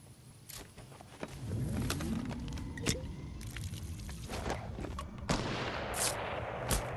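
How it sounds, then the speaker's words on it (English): Gunshots ring out in the Fortnite video game, several sharp separate cracks at irregular intervals over a low rumbling game soundscape, some near and some more distant. "Right, now we've heard some more shots."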